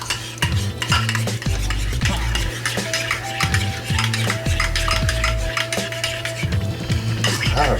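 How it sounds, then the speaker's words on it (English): A spoon stirs cheese sauce in a pot for macaroni and cheese, with repeated scraping and knocking strokes against the metal in a steady rhythm, close and loud, with a faint sizzle underneath. "basically blend this in with the cheese sauce"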